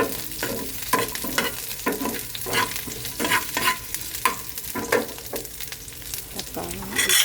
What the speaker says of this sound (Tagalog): Guys, nilagay ko na po yung bawang at saka sibuyas.